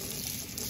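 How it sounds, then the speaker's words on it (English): Warm water runs from a kitchen tap in a brief, steady, even rush with no pauses. "And I'm starting some warm water."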